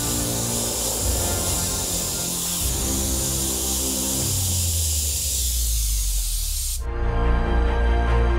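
An airbrush sprays paint in a continuous close, even hiss, with a brief change near the end when the spray cuts off and a lower hum carries on; no one speaks.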